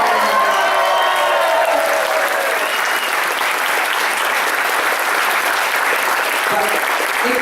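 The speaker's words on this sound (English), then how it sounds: "we have a real celebrity here, a world champion fighter. But you know, he is, right? Give him a round of applause." Sustained applause from a large political rally crowd in San Antonio, a dense steady wash of many hands clapping with some cheering mixed in, loud and continuous throughout.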